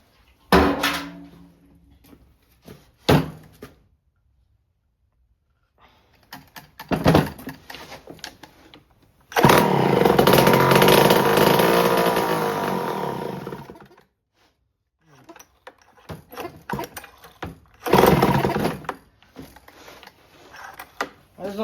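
A Homelite C5 chainsaw that won't run is pull-started over and over. Short ratcheting rattles of the recoil cord are split by silences, and one longer, loud mechanical burst sounds as if the engine briefly catches before it dies again.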